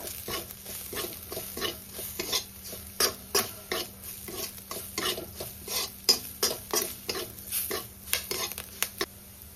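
Turmeric and Kashmiri chili powder are stirred into a curry in a pan, a steady rhythm of close spoon scrapes and soft thuds over a faint sizzle.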